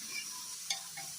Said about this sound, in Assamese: পদিনাৰ পাতখিনি মই ছাগলী মাংসখিনিত দি দিম আৰু মাংসখিনি ভাজি থাকিম।